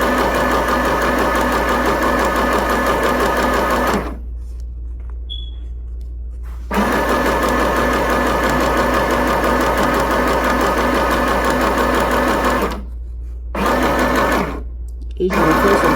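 A sewing machine stitches fabric in fast, even bursts, running loud and close, pausing briefly for several seconds mid-way and twice more near the end before resuming.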